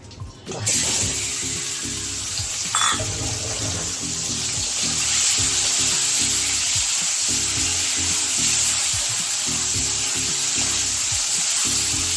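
Shrimp fry in a pan for Bengali potol chingri, a loud, close, continuous sizzle with crackling texture that holds steady throughout, with a brief clatter near the start and no speech.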